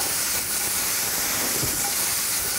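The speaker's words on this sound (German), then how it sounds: "Jetzt löschen wir das Ganze ein wenig ab." Steady, loud hiss of steam rising from a pan as liquid is added to deglaze it while cooking tomatoes, honey and pepper for a shrimp salad, a continuous broadband rush with no pauses.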